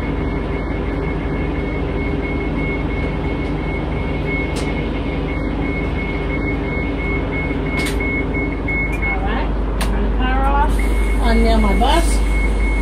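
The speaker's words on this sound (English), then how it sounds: "Turn the power on and then deploy my ramp." Wheelchair ramp on a bus being deployed and retracted, with steady warning beeps repeating over the engine's low rumble, and a mechanical whine that rises toward the end.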